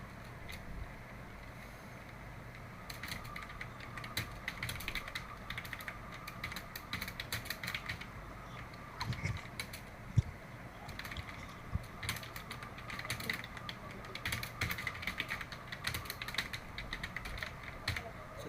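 Rapid, uneven clicking of someone typing words on a computer keyboard, steady keystrokes close and fairly quiet with occasional louder taps, no speech over it.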